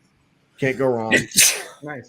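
A single sneeze bursts out near the microphone during a casual chat about comic books, with a voice speaking just before it.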